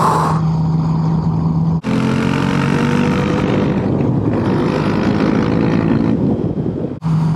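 A motorcycle rides along a mountain road in Sardinia, with a steady, loud engine drone and heavy wind rush that drop out briefly twice as the rider moves along.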